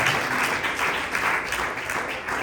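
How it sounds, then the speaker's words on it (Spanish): A church congregation applauds, offering applause to the Lord during a Bible study, steady, loud, sustained clapping from many hands filling the room. "Regale la ofrenda de palmas al Señor"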